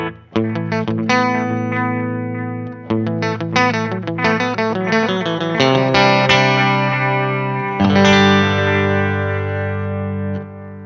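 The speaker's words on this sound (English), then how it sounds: "Which brings us to the Moon Echo, which is a hybrid delay." An electric guitar plays a run of notes and chords through a Valeton Coral Moon Echo hybrid delay pedal, with repeats trailing each phrase and a long ringing chord decaying at the end; no talking.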